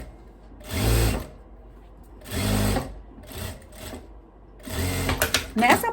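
Sewing machine stitching elastic into the waist seam of a long dress, running in three short bursts and then a longer uneven run, loud and close, with brief gaps between.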